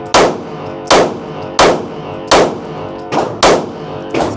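Sig Sauer P211 GTO pistol firing seven sharp, loud shots in a steady rhythm, each roughly two-thirds of a second apart, close by with brief ringing tails and no voices.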